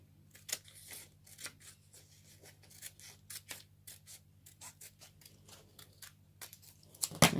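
Scissors snip through a paper quantity list on a diamond painting sheet, a steady run of crisp, close cuts and rustles with a low hum beneath, ending in a louder crunch of paper.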